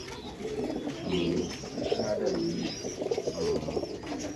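Pigeons kept on baskets at a farm in Taherpur, Bagmara, Rajshahi coo repeatedly in soft, overlapping throaty calls, close by and continuous with a steady background hum.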